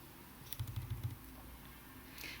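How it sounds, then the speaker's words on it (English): A brief burst of soft keyboard tapping, four or five quick keystrokes close by, in an otherwise quiet room with low background hum. "It's as easy as typing."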